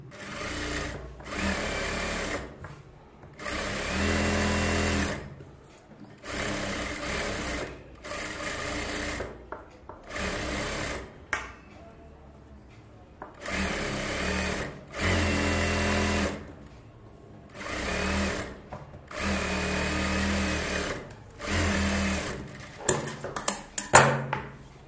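A sewing machine stitches the lining of a bridal Aari-work blouse in a series of close, even bursts of rapid whirring, about ten runs of a second or two each, separated by short quiet pauses.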